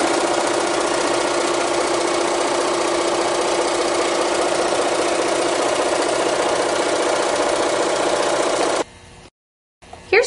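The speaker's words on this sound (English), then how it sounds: "Here's Joe sewing on our new Gidget 2 611 with this large Bernina 830 machine." Large Bernina 830 sewing machine running on a small sewing table, a loud, steady, fast mechanical whir and knock that carries on unbroken for about nine seconds before stopping abruptly.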